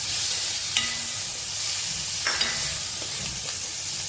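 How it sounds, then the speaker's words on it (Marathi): Ginger and garlic hit hot oil in a frying pan and sizzle with a loud, steady hiss, broken by a few soft stirring scrapes close by. "इथे आलं लसूण आहे हे आपण यात टाकत आहोत."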